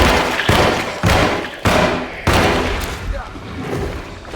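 Gunshots ring out in the video game Alone in the Dark, four heavy booming blasts spaced about half a second apart, loud and close, each decaying into a rumbling tail.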